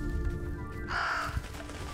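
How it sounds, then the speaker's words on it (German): A raven caws once, clear and fairly near, over a low steady ambient bed in the video game Röki. "Was machen diese Raben da?"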